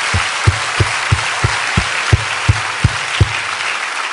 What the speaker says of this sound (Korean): 이 호박들에서 박수 한번 칩시다